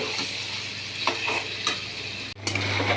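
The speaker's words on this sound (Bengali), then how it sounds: "এইবারে চিকেনের টুকরোগুলো আমি দিয়ে দিলাম, দিয়ে একটু ভালো করে কষিয়ে নিচ্ছি।" Chicken pieces sizzle with spices in a pan while being stirred, a close hiss with a few spatula scrapes, a brief cut-out near the end, then a low steady hum joins the frying.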